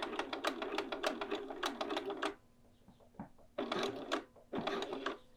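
A sewing machine stitching a neckline runs in short bursts of rapid, close mechanical clatter, with brief pauses between runs and a final quick burst.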